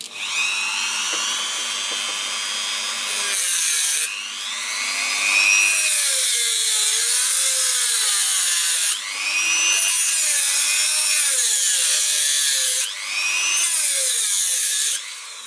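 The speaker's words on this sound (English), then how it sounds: "I do my new cutting in here, in that position, and then I start my Dremel" A Dremel rotary multitool cuts into a hand brake cable, its high-pitched motor whine rising and falling in pitch through several separate bursts with short pauses between them, loud and close.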